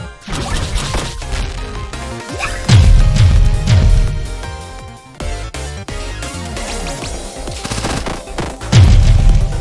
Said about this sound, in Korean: 투사체 발사